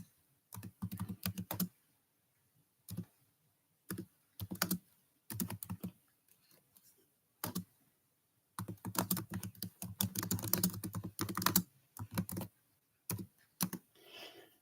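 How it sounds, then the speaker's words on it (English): Someone types on a computer keyboard in quick bursts of clicking keystrokes separated by pauses, close and fairly quiet, with a longer stretch of steady typing toward the end. "I'm going to type this into chat because I don't do decimals really good."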